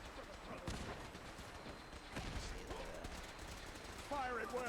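Gunfire in the video game Fallout 4: a steady wash of distant bursts and shots with a few sharper cracks, playing continuously at moderate level.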